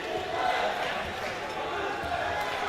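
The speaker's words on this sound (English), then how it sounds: "as the crowd starts to chant defense" A crowd at a high school basketball game (Ramaz vs. Magen David) chants "defense" in a steady, loud roar that fills the gym. Faint ball bounces and shouts run beneath it.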